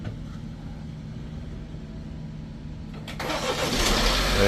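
BMW X1 engine starting after a jump start: a quiet idle-like hum, then the starter catches and the engine fires up, loud and rising for the final second.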